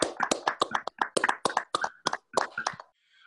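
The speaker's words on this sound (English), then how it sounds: "Can we all please give her a round of applause for that?" A small group clapping after a poetry reading at an online event, distinct sharp claps in a loose irregular rhythm, fairly close, tapering off and stopping before the end.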